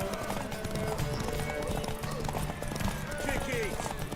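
Horse hooves clip-clop at a steady gallop in The Witcher 3, with a whinny rising over dense game ambience while several voices shout and talk throughout.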